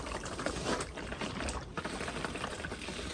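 Water trickles and splashes steadily out of a pool filter, a low gurgling pour that carries on throughout at moderate volume with no one speaking.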